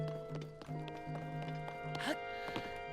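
Epona, Link's horse in Zelda: Tears of the Kingdom, trots in a steady clip-clop of hooves, close and moderately loud, over looping game music, with a brief whinny-like rise near the end.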